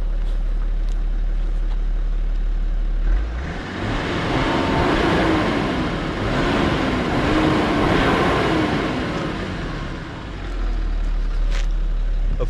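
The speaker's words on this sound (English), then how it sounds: "that is how this 6-cylinder engine sounds. I'll show you outside too." A steady, low idle of a BMW E90 330d six-cylinder diesel engine with exhaust and DPF, rumbling outdoors, with a broad droning tone holding evenly for several seconds.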